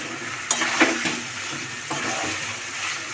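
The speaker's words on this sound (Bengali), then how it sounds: "সবজিটাকে আমি মশলার সঙ্গে ভালো করে কষাতে থাকবো দেখুন" Mixed vegetables are stir-fried with spices in a pan, giving a constant close sizzle with a few distinct utensil scrapes and clinks near the start; no one talks.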